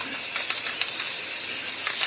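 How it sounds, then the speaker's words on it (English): Finish is sprayed onto a scroll-sawn wooden sign and its base, a steady close hiss of spray that runs the whole time with slight pulses and no voices. "the emphasis right now is spraying on the sign area, a little bit on the base"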